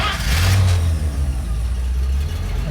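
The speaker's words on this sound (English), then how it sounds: "Start a motor first." A 1945 Lohner Dodge's engine runs with a deep, steady low rumble, rising briefly as if revved, close by and continuous with no talking over it.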